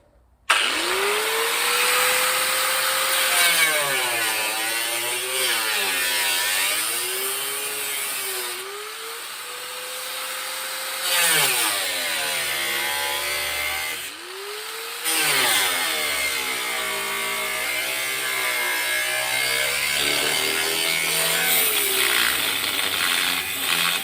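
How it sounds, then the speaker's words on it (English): A power tool whines loudly as it cuts out the rusted inner fender well of a 1961 Rambler, its pitch rising and dipping as the blade bites and eases through the sheet metal, with brief pauses. "I'm going to cut out the inner fender well, like from around this area down to here"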